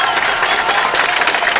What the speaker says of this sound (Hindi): तालियों से इच्छा का अभिवादन कीजिए